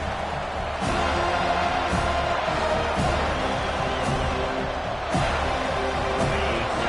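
A college football stadium crowd roars in a dense, continuous wall of cheering, loud and distant, with rhythmic thumps rising out of the noise.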